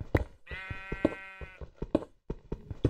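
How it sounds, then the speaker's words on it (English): Several sheep bleat in the Minecraft video game, with a long quavering bleat rising clearly over the scene while people talk and chatter around it. "three sheep of the same color"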